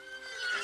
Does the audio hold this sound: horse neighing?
yes